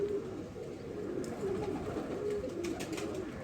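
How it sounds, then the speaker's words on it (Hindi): Pigeons coo softly in low, rolling murmurs, repeating at intervals against a faint background hiss. "बरीक नूर के कबूतर हैं, बरीक पलकों के कबूतर हैं"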